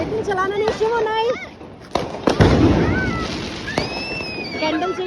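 Sky shot fireworks go off at a family Diwali celebration outside a new home, with sharp bursts and crackling pops mixed in among excited voices and children calling out nearby.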